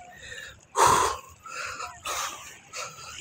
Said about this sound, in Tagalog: Hinihingal ako guys.